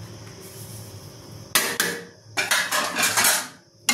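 A spoon clatters against a pan while stirring chicken curry with chilli powder, salt, chicken masala and garam masala, coming in a few bright scraping bursts after a quiet start, close and fairly loud.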